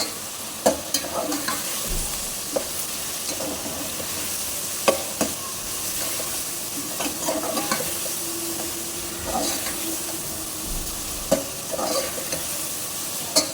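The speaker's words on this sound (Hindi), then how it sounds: "अब इसमें मैं गरम मसाले शामिल कर दूंगी सारे और इसको बस कुछ 30 सेकंड तक हम भूनेंगे।" Garam masala roasts in a hot pan for prawn pulao, a loud continuous sizzle broken by regular scraping and clacking stirring strokes every second or two.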